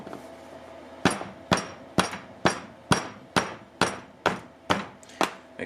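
A cross peen hammer strikes Damascus go mai steel while a knife is forged, landing about eleven sharp, ringing blows at a steady, even rhythm, close and loud with no talk.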